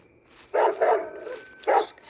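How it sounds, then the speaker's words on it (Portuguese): A dog barks in the horror video game Head Horse: a quick pair of close, loud barks followed by a single bark a moment later, with no speech. "Esse cachorro tá muito chato."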